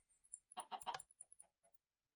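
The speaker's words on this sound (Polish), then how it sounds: "głupia kura, słyszałem, nacisnęła tą płytkę" A chicken in a farming video game gives a quick string of clucks, a few sharp, close bursts bunched together, then trailing softer clucks before falling quiet.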